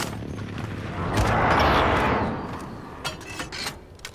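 Friendly precision airstrike explosions in a military shooter game, a broad rumbling blast that swells and fades near the middle, followed by a few sharp distant cracks and thuds.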